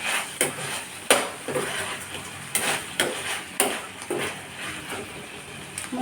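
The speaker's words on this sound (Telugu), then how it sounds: "పచ్చిమిరపకాయలు యాడ్ చేసేస్తే అది మళ్ళీ మనం ఫ్రై చేసేసుకుందాం." Green chillies sizzle and are stirred in a pan for a chicken fry, with repeated clanks and scrapes of a metal spoon against the pan over a low frying hiss, up close and steady.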